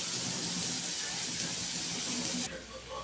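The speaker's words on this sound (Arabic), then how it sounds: "انزل بالبصله نقلبها كده" Onions sautéing in a hot pan, a steady broadband sizzle close up while being stirred, easing off near the end, with low clatter underneath.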